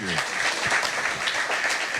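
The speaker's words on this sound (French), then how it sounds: "c'est que les applaudissements ne sont pas assez nourris" Audience applause at a reception in Guadeloupe honouring fencer Laura Flessel, continuous clapping under a speaker's voice throughout.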